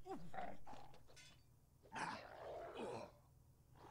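Bone dog from Kenshi growling and snarling during a fight with cannibals, several rough, guttural bursts close up with brief pauses between them, mixed with scuffling combat noise.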